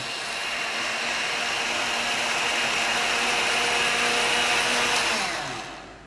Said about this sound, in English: I'm going to blend this